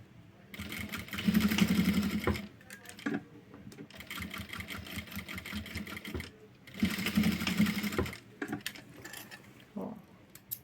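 Sewing machine stitching fabric for a multi-purpose pouch, a steady mechanical chatter in several bursts with brief pauses between runs, moderately close.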